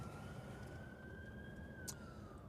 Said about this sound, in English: I can hear an ambulance or a police car somewhere, but I cannot see it.